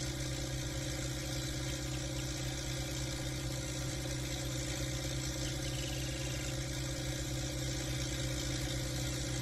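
Modified HMT 3522 tractor engine idling, a steady low rumble with constant mechanical hum running the whole time, close and even, no speech.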